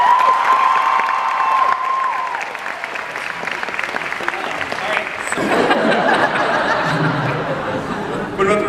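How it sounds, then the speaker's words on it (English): An audience at a Comic-Con panel gives the crew a sustained round of applause, with scattered cheers and some laughter mixed into the dense clapping of the crowd. "let's have a round of applause for this incredible crew"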